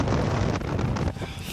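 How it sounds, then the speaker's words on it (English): Strong outdoor wind buffets the microphone in a constant, loud, broadband roar with gusty surges and no voices. "Yeah, it's really windy out there."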